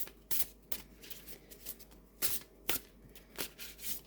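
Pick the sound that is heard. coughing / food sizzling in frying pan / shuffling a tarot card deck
shuffling a tarot card deck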